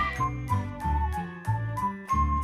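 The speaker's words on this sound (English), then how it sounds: "don't forget to hit the notification bell." A chiming notification jingle plays a short, bright melodic sequence of bell-like tones in a repeating rhythm, clear and upfront with no speech.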